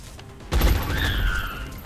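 Gunfire from the XCOM Long War video game bursts in abruptly after a quiet moment, a loud booming volley that rings and fades over the following second.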